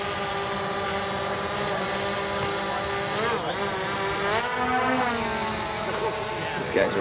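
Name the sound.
drone hovering nearby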